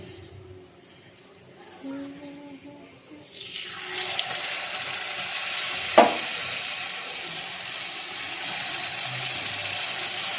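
Gokul pitha, a soft sweet fried snack, hisses and sizzles in hot oil, a broadband frying noise rising after a few seconds and holding steady with a sharp clatter midway; a few voices talk briefly at the start.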